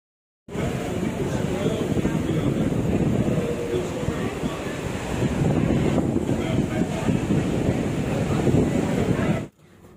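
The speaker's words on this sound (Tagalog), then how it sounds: "biglang lumakas yung alon" Strong sea waves and rushing wind roar steadily around a cruise ship at night, a loud, continuous wash that holds for nearly ten seconds before cutting off.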